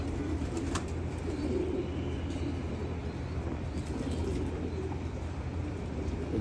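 Pigeons cooing and stirring as they bathe, a steady low murmur of coos with faint splashes and wing flutters throughout, fairly close and without any talk.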